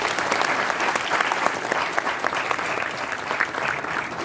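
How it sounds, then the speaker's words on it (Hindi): Audience applause welcoming Uttarakhand Chief Minister Pushkar Singh Dhami at a school event, steady dense clapping from a large crowd throughout, loud and continuous without pause. "आप सब लोग धामी जी का, हमारे मुख्यमंत्री जी का ताली बजा के स्वागत करें"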